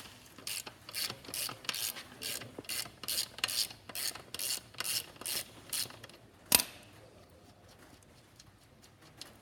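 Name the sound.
ratchet loosening motorcycle axle nut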